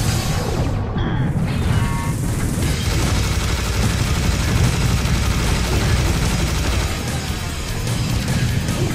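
A Serious Bomb goes off in the Serious Sam game, a dense roaring boom that gives way to a sustained, loud rumble of blast and gunfire lasting several seconds.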